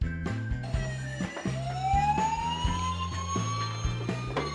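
The second siren button on a toy Bruder Mercedes ambulance sounds a slow rising electronic wail over a pulsing two-tone beat, steady and close for a few seconds with no voices.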